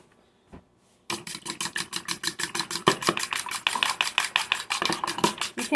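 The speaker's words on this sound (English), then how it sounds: "I'm mixing the whole thing together." Fried rice with egg being mixed with a fork, rapid rhythmic scraping and clinking against the dish after a brief quiet start, close and continuous.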